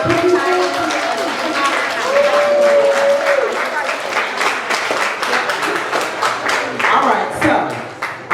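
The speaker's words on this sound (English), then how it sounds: "Can we please give a round of applause to" Audience at a youth leadership symposium gives a sustained round of applause, dense clapping from many hands with some cheering and crowd voices mixed in, loud and steady before tapering off near the end.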